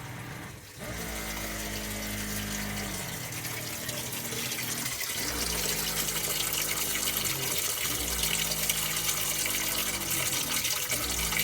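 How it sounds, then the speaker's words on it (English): A caravan water pump fills a Camec washing machine straight from the onboard tanks, a steady gushing rush of water over a low pump hum that cycles on and off several times, with no speech. "So pump is going. Water filling."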